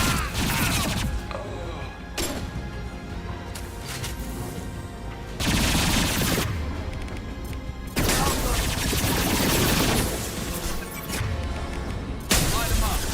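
Heavy gunfire in the sci-fi shooter Mass Effect 2, dense bursts of shots and impacts that come in loud waves with short gaps between them, part of an ongoing firefight.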